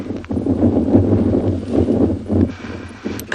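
Wind gusting across open ground at a Tswalu safari reserve at sunrise, a steady low rumble and buffeting on the microphone that swells and eases over a few seconds, with no voices.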